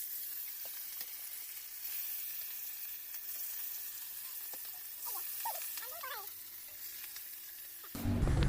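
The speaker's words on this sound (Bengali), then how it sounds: "এখানে মাছ ভাজা হচ্ছে," Rohu fish frying in oil with a steady, fairly loud broadband sizzle, a few faint higher chirps partway through, and a heavier clatter at the very end.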